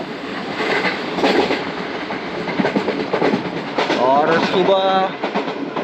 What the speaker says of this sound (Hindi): ट्रेन सादगाबाद रेलवे स्टेशन पास हो रही है।